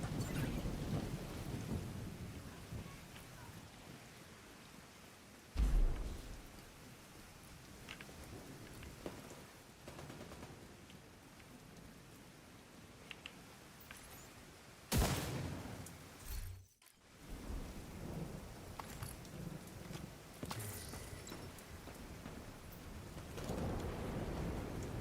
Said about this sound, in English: The difference rain makes.